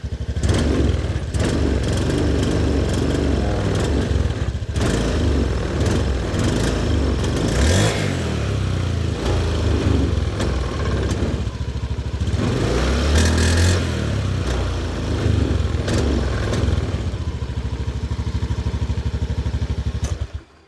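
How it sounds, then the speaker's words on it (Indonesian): A Honda Beat scooter whose engine sputters badly when the throttle opens, running continuously and loud up close with rough, uneven revving and clattery surges for about twenty seconds. "Di open gas langsung motornya berebet parah, ngempos parah."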